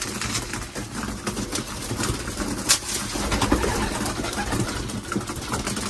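Racing pigeons coo softly at feeding time inside a loft, a faint murmuring under steady broadband noise and a low engine-like hum.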